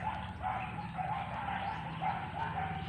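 A dog barks repeatedly in short yips somewhere in the distance, faint against a steady outdoor background.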